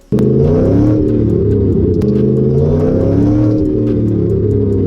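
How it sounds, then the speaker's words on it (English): A Ford Mustang accelerates hard with axle wrap, its engine roaring loudly and steadily at close range for nearly the whole stretch after a sudden start, with no talking. "I'll throw in a clip right here of some of the axle wrap that I discovered in my last video."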